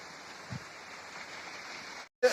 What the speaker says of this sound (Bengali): বাবা এখনো প্রচন্ড জোরে বৃষ্টি হচ্ছে